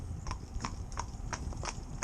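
A single Morgan horse trots with a steady, regular clip-clop of hooves, about three footfalls per second, fairly close and moderately quiet over low background rumble.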